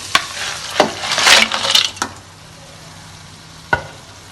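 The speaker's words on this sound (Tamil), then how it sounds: "அடுத்ததாக நம்ம இந்த நண்டை இதில் போட்டுக்குவோம்." Crab goes into a hot pan of sizzling oil with curry leaves for Tamil crab kulambu: a few sharp clanks of metal, a burst of loud frying hiss as it hits, then a steady quieter sizzle with another clank near the end.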